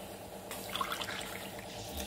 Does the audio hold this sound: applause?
no